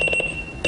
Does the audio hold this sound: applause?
no